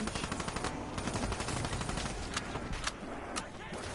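Assault rifle gunfire in a video game, rapid sustained automatic bursts rattling close and loud throughout, a few sharper individual shots cutting through near the end.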